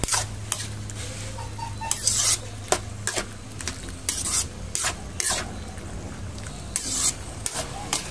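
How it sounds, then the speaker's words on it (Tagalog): A utensil scrapes and stirs around a pot of boiling ginataang papaya with sardines in repeated strokes over a steady low simmering hiss and bubbling. "Yan, haluin natin."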